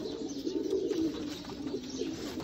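Sialkoti pearl-marked pigeons coo softly in a low, steady murmur, faint and continuous with no speech.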